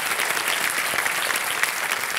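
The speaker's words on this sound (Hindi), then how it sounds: "तालियों के साथ एक बार स्वागत हो गया इनका।" Studio audience of the Kaun Banega Crorepati quiz show applauds to welcome a contestant's parents. Even, sustained clapping from a large crowd holds steady throughout, with no speech on top.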